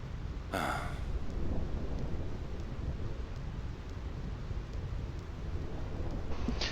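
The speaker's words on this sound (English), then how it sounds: "This storm never stops." Steady roaring rain and wind of a thunderstorm in Final Fantasy X fill the scene continuously, with a brief bright crackle of lightning early on and another near the end.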